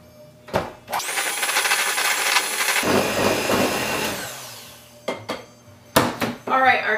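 An electric hand mixer whirs loudly through peanut butter batter in a kitchen, a sustained beating run of about three seconds after a few clinks of bowl and utensils, followed by brief clatter and scraping.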